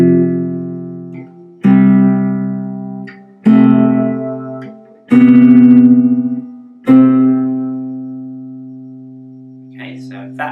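Guitar sounding a C and the C an octave above together, plucked as a dyad five times in a row, each ringing chord sustaining and decaying before the next, clean and close; faint talk starts at the very end.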